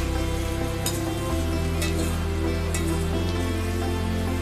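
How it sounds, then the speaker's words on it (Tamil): Grated carrot sautéing in hot oil for homemade carrot oil, a steady, close sizzle with a few sharp crackles over a constant low hum. "கேரட் துருவல் நல்லா வதங்கிக்கிட்டு இருக்கு."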